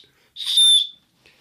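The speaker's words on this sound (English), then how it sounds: "It's also a whistle" A whistle built into the strap of a Yukon Outfitters bug-out survival bag gives one bright, loud shrill blast of about half a second, standing alone with no talk.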